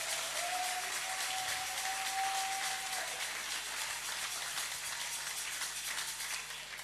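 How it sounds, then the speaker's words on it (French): A church congregation applauds in sustained, dense clapping that holds steady before easing slightly toward the end, with a faint tone briefly ringing over it. "we clap for the Lord,"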